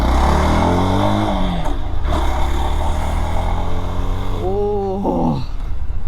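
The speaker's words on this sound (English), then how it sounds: "तो एक बार इसका थ्रॉटल रिस्पॉन्स चेक कर लेते हैं. as first gear, so let's go." A Yezdi Scrambler motorcycle engine revs close by while pulling away in first gear, a loud steady drone whose pitch climbs and falls, with a brief voice near the end.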